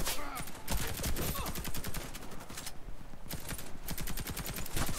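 Rapid automatic gunfire fills a Warface multiplayer match on the Cold Peak map, loud sustained bursts of closely spaced shots with brief gaps and no speech.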